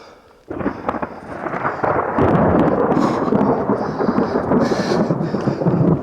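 Thunder rolls through Bryce Canyon, starting suddenly after a brief lull and then rumbling loud and sustained, with a deep, heavy roar lasting several seconds.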